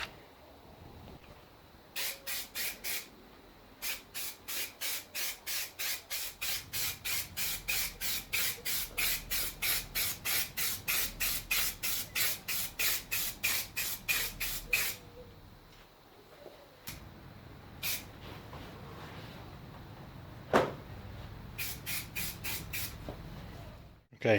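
Rapid bursts of an alcohol-based dye coat sprayed onto a car part, dozens of short evenly spaced hissing puffs in a steady rhythm, pausing, then resuming in irregular spurts, close and fairly loud with no talk.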